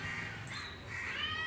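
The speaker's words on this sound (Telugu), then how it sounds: "కాకి ఎందుకు వచ్చావు" A crow caws at a distance outdoors, faint harsh calls rising over low background hiss across a short stretch with no talking.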